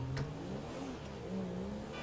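A Comet sports car engine in a GTA 5 driving game revs and accelerates, a mid-pitched rising and falling roar up close, alone with no talk.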